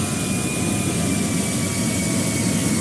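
Loud, steady jet airliner engine roar inside a flight simulator game during the approach to landing, a continuous broadband drone with a thin whine running through it and no talk.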